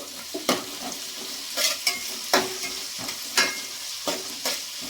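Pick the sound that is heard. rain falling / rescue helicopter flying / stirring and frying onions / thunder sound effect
stirring and frying onions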